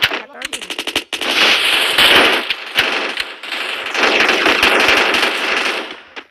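Rapid automatic gunfire in a shooter video game, loud and close, firing in long sustained bursts after a few opening single shots, with brief pauses between volleys.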